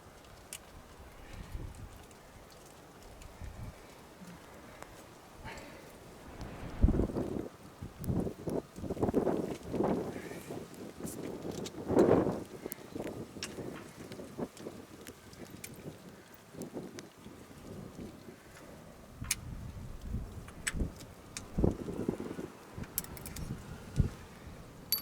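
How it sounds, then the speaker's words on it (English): Outdoor wind buffeting a microphone beside a CAT 279D compact track loader during maintenance, irregular rumbling gusts that swell and fade with scattered knocks and rattles. "I hope the wind's not getting you guys."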